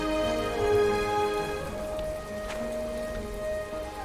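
Steady rain patters down in the video game My Time at Portia, a continuous hiss of falling drops layered with sustained tonal game music, heard alone without voices.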